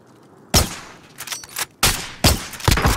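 Gunfire in a battle royale shooter, with four or five sharp, loud shots in an uneven rhythm over a quiet background and no voices.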